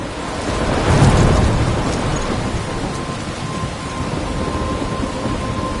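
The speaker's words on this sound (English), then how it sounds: "I'm trapped in a storm?" Thunderstorm in the video game Life is Strange: a loud rolling thunder rumble swells early over steady heavy rain, then the downpour continues alone at an even, close level.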